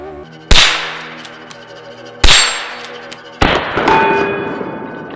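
Three sharp shots ring out from a Browning BL .22 lever action rifle, each a loud crack with a short decaying tail, spaced a second or two apart.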